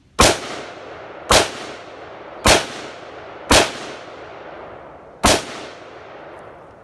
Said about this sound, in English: Next is the XM855.